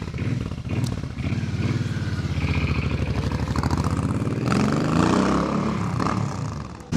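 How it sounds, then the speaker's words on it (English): A stock dual-exhaust 2005 Suzuki C50 Boulevard motorcycle rumbles steadily in a low, throbbing idle that builds into a louder drive-by pass, close and continuous with no talk. "It's got a nice set of mufflers on there, gives it a little rumble."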